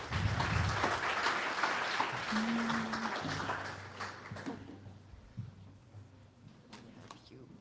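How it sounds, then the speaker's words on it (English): An audience at a design talk gives a round of applause as a speaker takes the stage, clapping briskly at first and then thinning out, while voices and a brief tone come through underneath. "Let's give Coco a round of applause as well."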